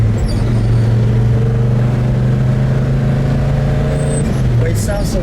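A 1969 Oldsmobile F85 W31 with a 350 engine and four-speed, heard from inside during a ride, a loud steady engine drone that rises in pitch through the gears, with faint talk in the cabin.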